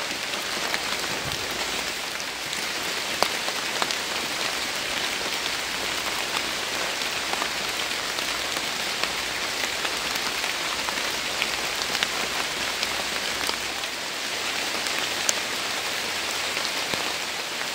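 Heavy rain pours steadily onto surfaces at a forest campsite, a loud, continuous hiss dotted with sharper drop hits, heard alone without any talking.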